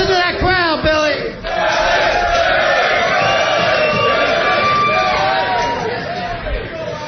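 A loud arena crowd roars and cheers throughout a boxing fight night event, with voices shouting and whooping over the steady wall of noise.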